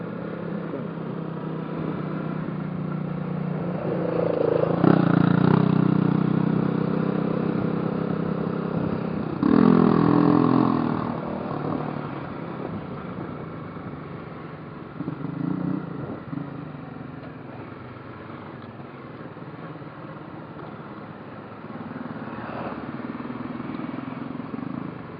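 Motorcycle engine revving and accelerating on a ride home from work in Brazil, with swells of rising engine noise around five and ten seconds over a steady road drone, close to the rider.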